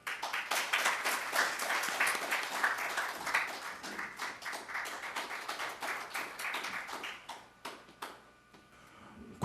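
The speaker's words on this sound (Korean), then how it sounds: "큰 박수 부탁드립니다." Applause fills a seminar hall at the National Assembly, a sparse crowd clapping in dense overlapping claps that thin out into a few scattered last claps before fading near the end.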